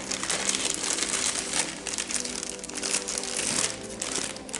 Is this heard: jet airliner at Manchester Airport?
no